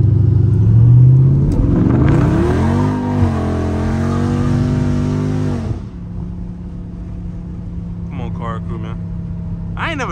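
A Dodge Scat Pack engine revs hard while drifting, its loud exhaust note climbing steeply in pitch and holding high RPM before cutting off abruptly, then settling into a lower idle-like rumble.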